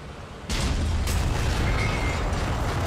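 A loud explosion erupts in the IL-2 Tank Crew tank game, a sudden boom followed by a sustained heavy rumble that stays loud to the end.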